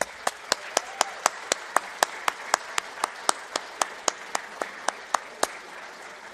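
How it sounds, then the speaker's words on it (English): At the McMurry University Hall of Honor ceremony, an audience claps in a steady, evenly spaced rhythm that stays crisp and regular throughout. "Please give them another round of applause."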